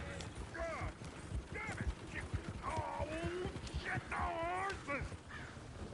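Horse-drawn coach in Red Dead Redemption 2, its hooves clip-clopping in a steady patter under a busy game soundscape with several voices and barking dogs over about six seconds.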